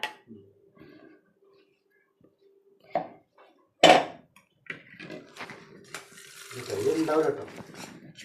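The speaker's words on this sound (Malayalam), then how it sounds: "കുറച്ച് വെള്ളം പാരട്ടെ" Water poured by hand in a home kitchen while preparing kappa puzhukku, a Kerala cassava dish, with a splashing, trickling burst toward the end and dish clatter and a sharp knock earlier, mostly without speech.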